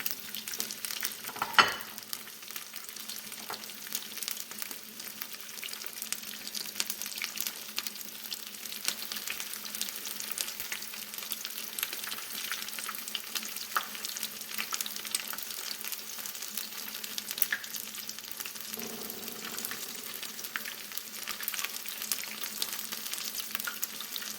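Coconut shrimp frying in very hot oil, giving a steady close-up crackle and sizzle with occasional louder pops and a brief stir partway through. No one talks over it.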